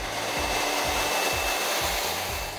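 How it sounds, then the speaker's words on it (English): A hair dryer blows loud and steady while long hair is blow-dried into glossy layers, its airflow roaring close by with a few rhythmic dips as the dryer moves. "when we're blow drying, we're going to blow dry it with other pieces of hair as well"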